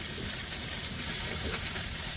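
Vegetables, onion and chili frying in a pan, a steady dense sizzle with hissing crackle throughout, close and continuous with no voices.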